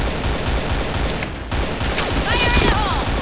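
Rapid bursts of AK-47 fire in a video game, loud and continuous through most of the stretch with a brief lull near the middle, over a busy game soundscape.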